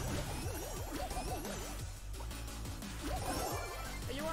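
Brawl Stars super attack striking the brawler Jackie, a busy burst of game impacts and whooshes over looping game music, with swishing effects and clinks before a second flurry near the end.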